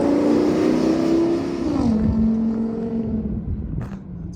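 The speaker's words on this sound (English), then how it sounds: "That's what a straight piped V10 sounds like" Close by, the straight-piped V10 engine of a Ford E350 Sportsmobile van revs up with a loud, raspy roar, then its pitch drops and settles into a throbbing, lumpy rumble as the throttle eases off.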